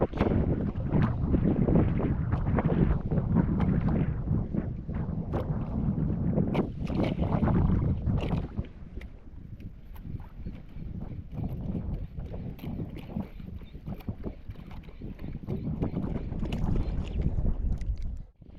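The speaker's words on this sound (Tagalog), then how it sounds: "Lalaki na ng alon, yan o." Strong, steady wind roaring over a microphone with surging, splashing waves at sea, growing larger, loud and continuous throughout with brief dips in intensity.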